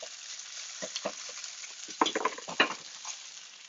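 Spätzle, a loose Austrian pasta, fries in a pan to a golden brown crust. A continuous sizzle runs throughout, broken by close scraping and stirring clatters around the middle.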